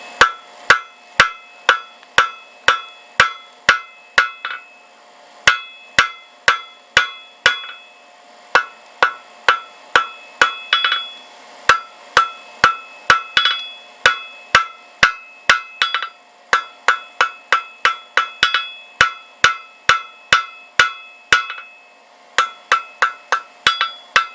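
Blacksmith's hammer beating hot metal flat on an anvil, a steady run of loud, ringing metallic strikes in rhythmic bursts with short pauses, close by and with no talking.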